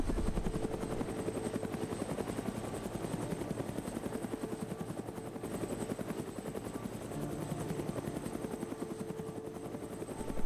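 A helicopter's steady rotor chop drones on continuously throughout, loud and close, with no speech over it, in the video game ArmA 3 (Exile mod).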